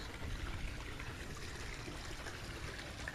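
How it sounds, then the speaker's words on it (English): Pool water poured into a small plastic dropper bottle for a cyanuric acid test, a steady close trickle of running water lasting throughout with no talking. "fill this dropper bottle up to the 7 line with pool water"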